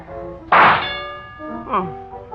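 A rifle shot hits a metal shooting gallery target at a fairground booth, a single sharp ringing clang that decays slowly, followed by a fainter second ding.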